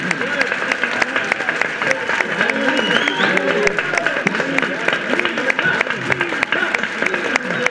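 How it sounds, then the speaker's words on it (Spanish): A studio audience on a Spanish radio variety show applauds steadily and loudly throughout, with many dense claps forming a continuous wash and a few voices calling out over it. "¡Fuerte aplauso!"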